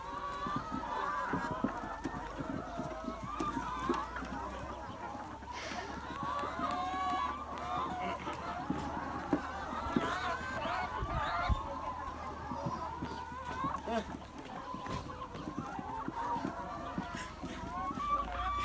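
Farm chickens clucking and squawking together in a busy, continuous flock chatter, with dense overlapping calls close by and occasional louder cries throughout.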